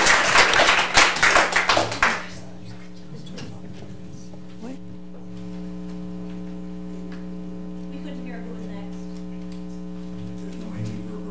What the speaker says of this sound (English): I didn't hear you because everybody was clapping.